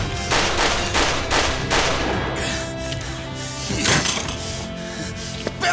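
Gunfire in the crime action game Judge Eyes comes as a rapid, close string of sharp shots, then a short pause and a few more bursts over a dense bed of ambient game noise.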